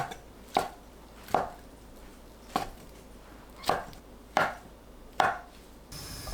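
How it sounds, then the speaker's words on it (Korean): Fish cake being cut into bite-size pieces on a board, six sharp knife chops at an uneven pace, close and clear against a quiet background. "한 입 크기로 썰어주세요."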